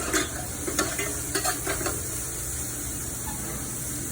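White onion and garlic sauté in a pan with a continuous close hiss, and a few scraping stirs at the start then fade into the steady sizzle.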